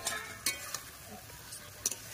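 Pointed gourd curry with turmeric, ginger paste, cumin and coriander is stir-fried in a pan, a soft low sizzle punctuated by a few sharp spatula scrapes and taps, faint and close.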